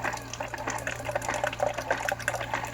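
A Keurig Vue coffee maker, just unclogged, brews with a steady watery gurgle and pump hum, liquid pouring continuously with small bubbling pulses and a low constant drone underneath.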